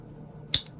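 The blade of a rusty Case XX pocket knife snaps shut once with a single sharp, close metallic click over a quiet background.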